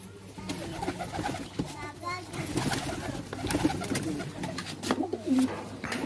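Pigeons from the Attari border area coo repeatedly at close range, with soft throaty calls recurring through the stretch, mixed with rustling and voices talking nearby.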